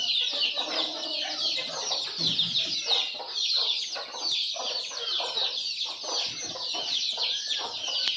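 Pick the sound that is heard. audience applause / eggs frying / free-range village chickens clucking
free-range village chickens clucking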